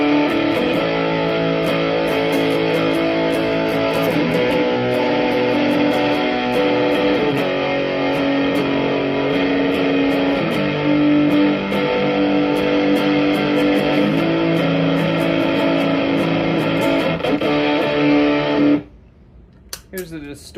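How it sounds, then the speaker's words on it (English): Electric guitar through a distorter pedal with a fuzz-like tone on a pedalboard, a thick chord held and sustained for about eighteen seconds, then cut off abruptly, leaving faint noise. "Here's the distorter, which is kind of fuzz, kind of distortion, all cocteau. Sustains for days too."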